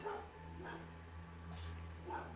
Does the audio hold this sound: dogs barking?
yes